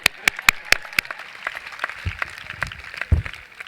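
A graduation audience at Aliso Niguel High School claps, with a few sharp, distinct claps early on thinning into scattered, lighter clapping.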